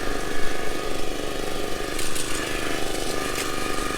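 An Etesia LKX2 heavy petrol lawnmower runs steadily at speed 1 with a constant mid-pitched engine drone, close and fairly loud, with a brief rattling rise partway through.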